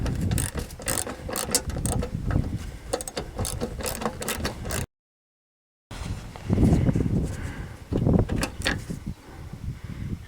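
Ratchet clicking as it backs out 7mm bolts holding a Chevy HHR headlight capsule, rapid close mechanical ratcheting in bursts with a short pause between them.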